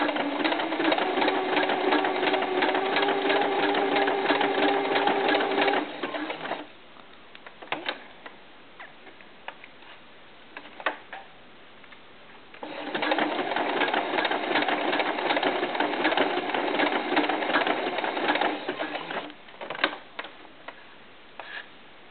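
A sewing machine stitches the ribbing of a small knit tank top for a doll, running in two sustained bursts of rapid, steady mechanical clatter with a quieter pause between them and a few soft clicks.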